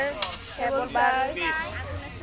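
Chicken and vegetable curry sautéed in a pan over a clay stove, giving a steady sizzle with a few stirring scrapes, while voices talk over it.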